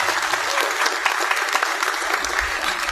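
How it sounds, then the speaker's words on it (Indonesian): An audience at the opening of a regional Buddhist youth gathering in Riau Islands applauds steadily, a loud, continuous wash of many hands clapping with no break for the whole stretch. "Mana tepuk tangannya?"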